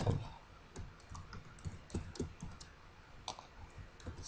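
Quiet typing on a computer keyboard while writing HTML table code, a faint, uneven run of light key clicks in small bursts with short pauses, no voice over it.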